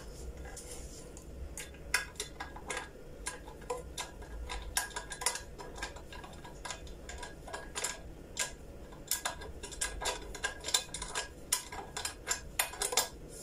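A kitchen knife used to cut open the packaging of granite cooking pots, producing faint irregular clicks, taps and scrapes spread across a quiet room.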